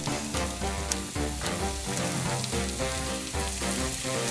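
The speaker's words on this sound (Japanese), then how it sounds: "具材をフライパン全体に広げ、焼き目をつけるように焼いていく。" Oysters and king oyster mushrooms fry in a pan over medium heat, giving a continuous, even crackling sizzle at moderate volume throughout.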